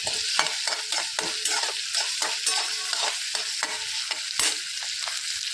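Onion, garlic, chili and curry leaves fry in a pan for a spicy okra dish, sizzling steadily while a spoon scrapes and stirs them in frequent close clinks.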